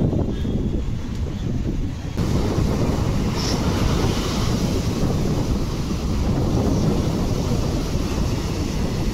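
Sea waves surge up a beach at Vizag, making a continuous loud broadband roar of surf mixed with heavy wind buffeting the microphone. The wash swells slightly after the first couple of seconds.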